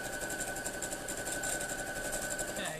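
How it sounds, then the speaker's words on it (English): A sewing machine stitches the full length of two fabric strips for a Jacob's Ladder quilt block, giving a steady, close, rapid mechanical whirr with even pulsing that runs without a break before slowing at the end. "Okay, so I've sewn down the whole length of those 2 strips."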